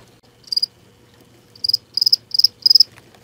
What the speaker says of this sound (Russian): И тут у нас контейнер со сверчками, с двупятнистыми сверчками.